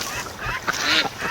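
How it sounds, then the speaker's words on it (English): Farm ducks in a pen quack in a few short, nasal bursts close by, with no talking. "we got a lot more ducks down here"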